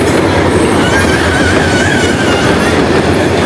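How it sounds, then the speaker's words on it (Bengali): A train pulling into a railway station gives a loud, steady, close rumble of wheels on track, with a thin squeal running through it and no talk. "অলরেডি ক্রসিংয়ের উদ্দেশ্যে যে ট্রেনটি আসার কথা সেটি স্টেশনে পৌঁছে গিয়েছে।"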